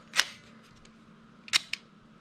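Mechanical shutter of a Canon A-1 film SLR set to a very slow speed: a soft opening click, a long quiet pause, then a closing snap with a small follow-up tick, fairly quiet and close.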